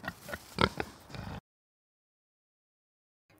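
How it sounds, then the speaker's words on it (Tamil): A wild boar grunting, several quick rough snorts and oinks close up for about a second and a half, then abrupt silence. "காட்டுப்பன்றி எப்படி சத்தமிடும்?"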